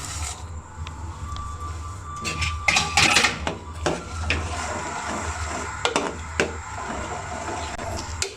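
Jaggery goes into a pot of green gram payasam, with scattered clanks, knocks and scraping against the vessel, loudest in a cluster of sharp hits midway, over a low kitchen background.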